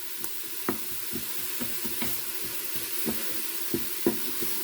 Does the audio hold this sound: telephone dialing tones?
no